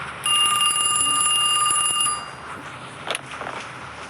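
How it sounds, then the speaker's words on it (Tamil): A phone rings inside Kiosk, a Japanese horror video game: a loud, steady electronic bell-like trill lasting about two seconds, then quieter faint clicks and rustles with no talking. "ஓகே, யாரோ ஃபோன் பண்ணுறானுங்க, இவங்க என்னென்னு பார்ப்போம்."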